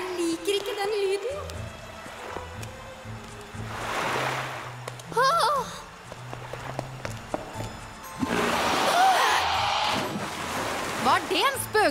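Animated cartoon waves surge through water in two broad rushing swells, one brief and one longer and louder, with voices talking over and between them.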